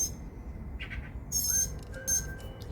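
A younger bird and an older bird call back and forth outdoors, trading short chirps and clearer whistled notes at moderate distance against a quiet background.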